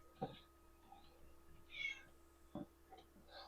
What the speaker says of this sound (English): One of the cats I let in.